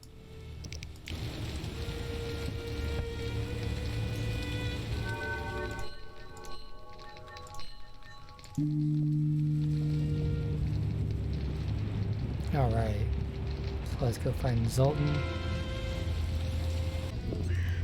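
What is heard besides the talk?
rain falling in The Witcher video game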